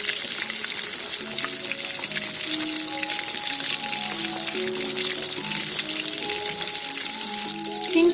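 Beef seekh kebabs sizzling in a pan, a continuous close frying hiss and crackle holding steady throughout, with faint background tones and no talking.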